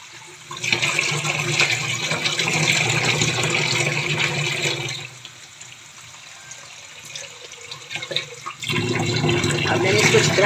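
Black chickpeas are rinsed in water in a home kitchen for a curry, giving a steady splashing, running-water wash that stops midway and then resumes near the end.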